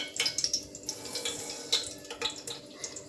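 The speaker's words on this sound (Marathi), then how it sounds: "यात आपण आता मोहरी टाकणार आहोत." Mustard seeds dropped into hot oil in a pressure cooker sputter and crackle in scattered sharp pops over a faint steady sizzle, close and fairly quiet.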